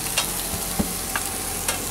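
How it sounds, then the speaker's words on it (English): Chopped ham and minced garlic sizzle steadily in a frying pan, a constant close hiss broken by occasional light taps and scrapes of stirring. "chopping up and frying up the ham with garlic"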